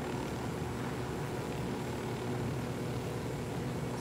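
Steady, dense engine drone of a helicopter flying in the video game Ghost Recon Wildlands, a continuous broadband whir and rumble with no clear breaks, heard throughout at an even level.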